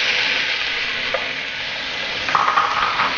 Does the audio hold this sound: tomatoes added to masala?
yes